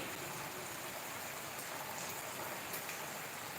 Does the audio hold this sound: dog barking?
no